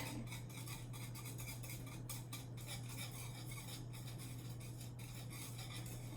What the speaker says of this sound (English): I keep constantly whisking so that we can prevent any scorching from happening on the